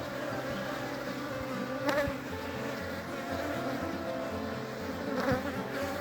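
Honey bees hum steadily at an open hive while it is being requeened with VSH queens; a close, continuous drone with a few bees passing nearer the microphone.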